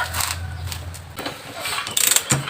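A Yamaha Fino motorcycle engine under overhaul is turned by hand, giving close, loud mechanical clicks and ratcheting rattles in short bursts, with a brief hum at the start.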